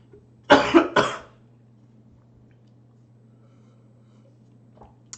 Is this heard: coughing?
yes